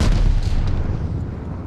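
Bombing-run explosions from the Call of Duty: Vanguard video game, a dense, loud rumble of overlapping blasts that rolls on continuously and slowly fades without letting up.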